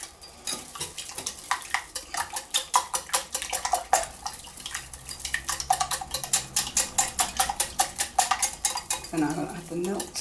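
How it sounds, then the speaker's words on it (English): A whisk beats eggs for quiche Lorraine in a bowl, making rapid, rhythmic clinking strokes that repeat in bursts up close. A brief pause falls in the middle, and a softer rustle comes near the end. "I'm going to give these a beat, a little whisk now"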